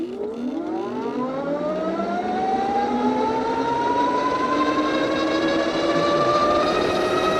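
A Tuttio ICT electric bike motor runs on throttle alone while climbing a hill, its loud, continuous whine rising steadily in pitch as it accelerates, with no talking.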